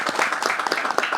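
Audience at a book launch event at the Ranchi Press Club breaks into applause, a brief burst of many hands clapping in an indoor hall, fairly close and lively.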